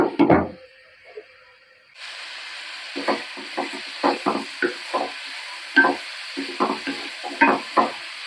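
Vegetable bhaji sizzles steadily in a pan while a spatula stirs it, making a series of irregular scraping knocks against the pan. A brief clatter comes just before the frying noise starts.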